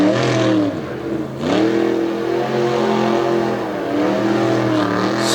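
The Lumberjack monster truck revs hard and spins its tires at Lake Erie Speedway, a loud engine roar climbing and falling in repeated surges with rising pitch sweeps.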